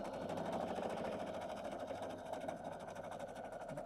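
A sewing machine stitches small quilt scrap pieces together, a steady continuous mechanical hum running throughout at close range with no talk over it.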